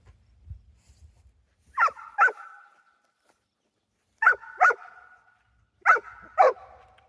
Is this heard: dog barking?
yes